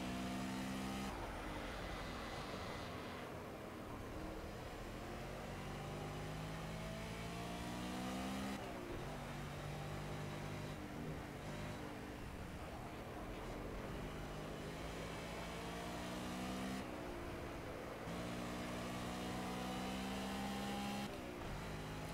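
A BMW M3 GT4 race car tears around Hockenheim in the Project Cars racing game, its engine roaring loud and unbroken, climbing through the revs and dropping back at each gear shift, with no one talking.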